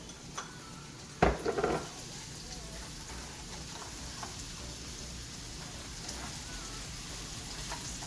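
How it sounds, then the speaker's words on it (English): Onions shallow frying in oil in a pan for dal, a steady soft crackling sizzle throughout, with a brief loud clatter of a utensil against the pan near the start. "So I'm just gonna like shallow fry this for about 8 minutes."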